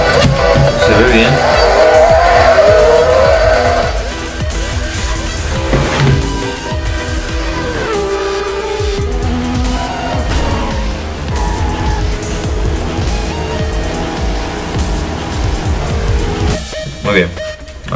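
Racing cars in Trackmania Turbo on Xbox One roar and shift with engine whine and occasional tire squeals, while a person talks over the gameplay throughout at a loud level.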